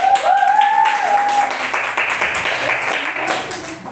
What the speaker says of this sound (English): Don't forget to applaud to our candidates